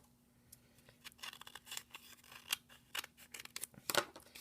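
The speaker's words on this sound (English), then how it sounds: "You can see I'm using some scissors on this edge." Scissors cut through cardboard in a quick string of close, crisp snips with short pauses between them, and no one speaks.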